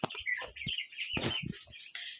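Backyard chickens cluck and squawk in short, clustered bursts beside a wood-fired clay stove, near and fairly loud, with a few bright, higher calls in between.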